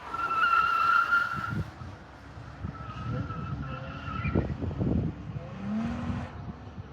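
A police academy recruit's car takes a fixed-radius curve at 25 miles per hour without braking, tires squealing loudly at the start and again later amid engine noise and thumps, heard fairly close.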